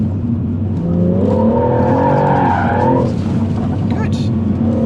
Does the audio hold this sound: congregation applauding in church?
no